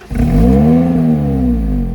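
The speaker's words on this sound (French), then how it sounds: "on va entendre le petit démarrage de la voiture" A Lotus Elise S3 four-cylinder engine fires up: a sudden catch, then a loud rising revving whir that holds steady and settles into idle, close by and with no talking.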